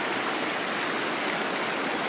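River water rushes steadily through a gold sluice box set beside rapids, a dense, even hiss and gurgle that holds at the same close, full level throughout.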